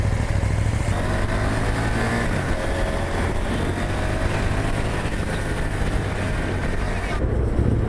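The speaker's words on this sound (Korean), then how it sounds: "물론 이제 병렬 2기통 특유의 소리긴 합니다. 근데 제법 박력 있는 소리가 나오고 있습니다." A KTM 790 Duke parallel-twin motorcycle engine with stock exhaust runs steadily with a deep, throbbing exhaust note, loud and close, with some wind noise over the microphone.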